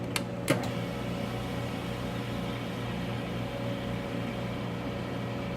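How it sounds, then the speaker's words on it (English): A Specialty Coating Systems PDS 2010 parylene coater's vacuum pump hums steadily as it pumps the chamber down, a constant mechanical drone with a couple of brief clicks at the start. "And it begins to pump the chamber down."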